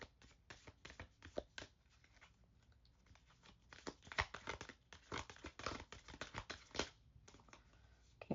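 Oracle cards being shuffled by hand, giving quiet, close bursts of papery riffling and flicking in irregular clusters with short pauses between, and no talking.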